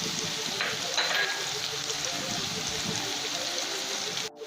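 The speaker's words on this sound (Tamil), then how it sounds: "ஸோ இது வெங்காயம் நல்லா வதங்கி வரட்டும்." Onions sauté in a pan for Tamil squid thokku, giving a steady, close sizzling hiss that runs unbroken, with occasional faint stirring clinks and a brief knock at the end.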